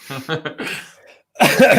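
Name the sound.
man coughing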